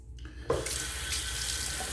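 Tap water runs steadily into a sink as shaving soap is rinsed off a straight razor after a shaving pass, starting with a sharp splash after a brief quiet moment and then continuing as a constant close rush.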